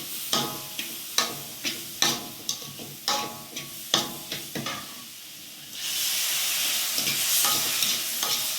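Semolina being stirred in hot ghee with light additions of water, a spoon scraping the pan in regular rhythmic strokes, then a loud steady sizzle and hiss bursting up near the end.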